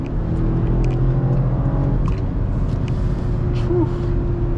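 A BMW X5 50i on a road with its engine droning steadily from inside the cabin, a low continuous rumble with faint tonal whine and no sharp revving surge.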